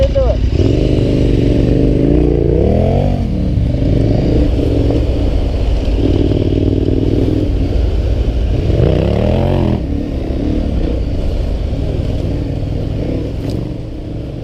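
A KTM 1190R adventure motorcycle being ridden, its engine droning loud and steady throughout, rising and falling in pitch as the rider revs through gears, with wind noise and a constant mechanical rumble.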